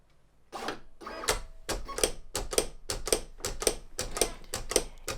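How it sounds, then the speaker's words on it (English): A Silhouette Cameo 5 cutting machine readies its blade with a series of sharp mechanical clicks and clacks in an uneven rhythm, close and moderately quiet, with no voices. "It's making this noise because it's getting the blade ready. That's why it was doing those clicky noises."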